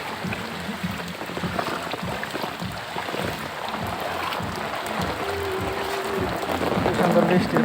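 Rain falls on a flooded city street, making a dense, steady patter and splashing that builds slightly toward the end, with faint voices in the background.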